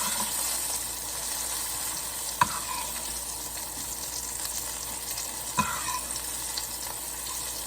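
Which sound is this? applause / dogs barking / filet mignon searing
filet mignon searing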